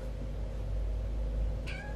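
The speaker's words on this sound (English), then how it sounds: "There's a cat out there" A cat meows once indoors near the end, a short clear call over a steady low room hum with no talking.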